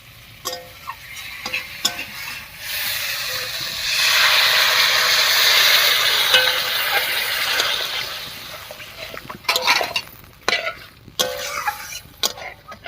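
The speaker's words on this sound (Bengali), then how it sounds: "এবারে জল দেবো আর জলটা একটু কম করে দেবো" Water poured into a hot pan of bitter gourd curry, a loud rushing hiss and bubbling that swells in the middle, then settles into intermittent clatter and stirring knocks nearby.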